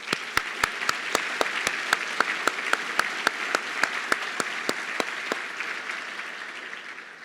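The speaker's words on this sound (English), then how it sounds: "Let's give them a round of applause." A crowd at a nonprofit community celebration event applauds, a dense steady wash of clapping with a few sharp, evenly spaced claps standing out, fading slightly toward the end.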